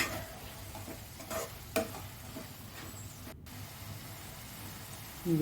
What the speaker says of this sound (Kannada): ಇದನ್ನು ಒಂದೆರಡು ನಿಮಿಷ ಹುರ್ಕೊತಾ ಇದ್ದೀನಿ